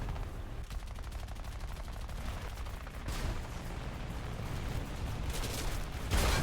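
Sustained gunfire from War Thunder aircraft combat, with dense rapid bursts of machine-gun fire over a steady engine roar, growing heavier near the end.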